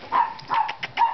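Dog giving three short barks or yips, moderately close and fairly soft, with brief pauses between them in a home setting.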